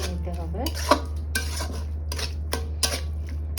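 A metal spoon stirs and scrapes salt, turmeric and chili powder in a cooking pot while frying dried loitta fish, making clinking, scraping strokes close up over a steady hum, with no talk.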